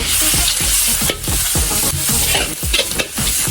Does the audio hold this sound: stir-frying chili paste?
yes